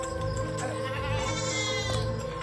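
A goat bleats steadily and loudly nearby in a wavering, drawn-out call, held over a constant rural background with no clear speech.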